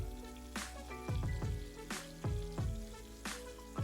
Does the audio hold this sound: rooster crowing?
no